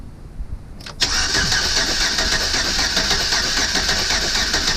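A Chevrolet Silverado engine cranking briefly and then catching, settling into a loud, steady, close-up idle.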